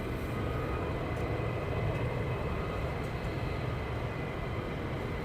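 Fighter jets taxiing and spooling up their engines at RAF Lakenheath, a steady broadband roar with a low rumble holding constant at a distance, no voices over it.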